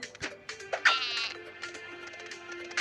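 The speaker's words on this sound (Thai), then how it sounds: "แพะมา" Goat bleating in an animal-catching video game, a few wavering, nasal calls rising over a steady game soundtrack, fairly close and clear with no talking over them.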